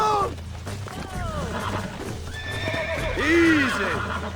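Horse in Red Dead Redemption whinnies and neighs repeatedly while hooves clip-clop at a gallop, a loud close neigh rising near the end, with someone talking over it.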